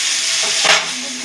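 Slices of bitter gourd frying in hot oil in a kadai, a steady loud sizzle and hiss with a brief stirring swell midway, no talking.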